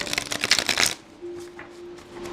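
Tarot cards shuffled in a quick riffle of close, crisp paper flutters that stop after about a second, leaving a faint steady hum.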